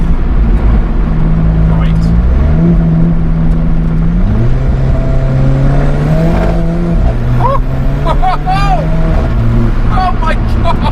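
Alfa Romeo 4C Spider engine revving and accelerating through gears in manual mode, loud and close with rising and falling pitch steps, the sound of a hard pull on the road; excited voices exclaim over it.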